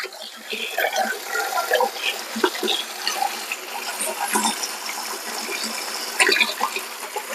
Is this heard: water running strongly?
yes